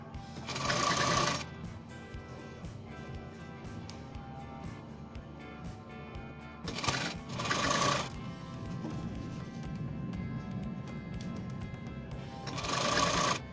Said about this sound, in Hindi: पूरी सीधी सिलाई लगाएंगे।